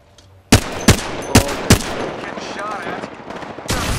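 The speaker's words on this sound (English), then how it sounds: "Firing." Rapid bursts of gunfire from an Apex Legends match on the Kings Canyon map, four sharp loud shots in quick succession followed by a lingering game soundscape and a final burst at the end.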